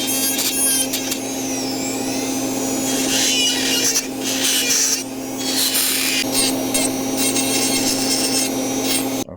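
Rasping, grinding trim work on an implant overdenture, cutting away excess acrylic flange material over a metal frame, steady and close with a constant low motor hum underneath and brief dips between passes.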